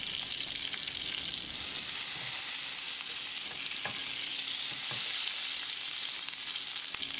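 Butter sizzling and frying in hot oil in a pan for a Tamil side dish for chapati, a steady bright crackling hiss that runs the whole time with a few faint stirring clicks and no talk.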